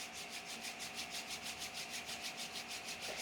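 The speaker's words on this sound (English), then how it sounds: "give your hands a bit of a rub" Hands rubbing together briskly during a calm grounding exercise, a close, soft, rhythmic swishing friction repeating steadily about six times a second with no talking.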